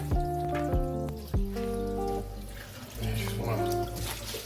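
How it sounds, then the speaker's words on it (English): Kitchen tap running water over greens in a colander, a close splashing flow with drips and knocks of handling, while a voice speaks over it. "Get the tap running."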